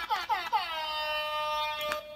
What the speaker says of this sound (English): my air horn button.